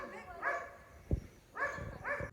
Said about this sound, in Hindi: बाहर भौंक रहा है हमारा कुत्ता क्योंकि गली में कोई भी आ जाता है तो हमारा कुत्ता भौंकता है